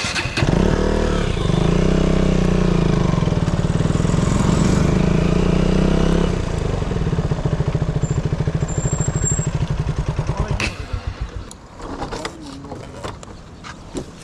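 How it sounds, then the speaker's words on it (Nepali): A loud motorcycle engine idles with a heavy throbbing rumble close by, then revs and rattles in pulsing bursts before dropping away, leaving sharp mechanical clicks and faint background noise. "एउटाको बाइक फेरि ड्युक भन्दा चर्को छ नि।"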